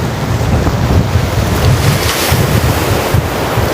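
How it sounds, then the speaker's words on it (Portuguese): Sea waves breaking in varied sizes along a shore at dusk, a steady, loud surf roar with rolling swells and wind buffeting the microphone, no voices. "o céu azul e as ondas quebrando e vindo de vários tamanhos."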